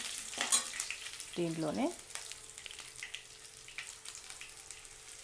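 Fenugreek seeds and garlic sizzle faintly in tempering oil for Majjiga Pulusu, a soft steady crackle under brief speech and a few clinks near the start.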